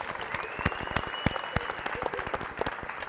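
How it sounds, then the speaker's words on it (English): Crowd in the stands at a charity dodgeball tournament applauding, a dense steady wash of clapping with sharper individual claps throughout, fairly close and sustained for the whole stretch. "can we get a round of applause for all you in the stands here?"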